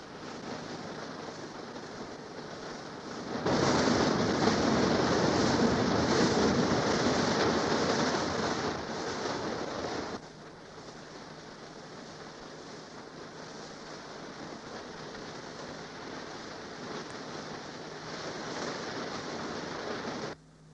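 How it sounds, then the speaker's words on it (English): Water rushing into a flooding dry dock during a 1974 offshore jacket construction, a broad steady roar that swells loudly for several seconds, then drops back to a lower continuous wash. "orders to flood the dock are received. The inrush of water is carefully controlled."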